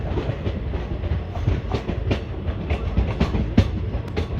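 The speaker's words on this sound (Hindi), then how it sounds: "और ये अभी ट्रेन अपनी मेन लाइन पे आ रही है।" Delhi–Jodhpur 22421 superfast express train pulling onto the main line: a steady close rumble of rolling coaches with rhythmic clickety-clack wheel beats over rail joints, continuous and without talk.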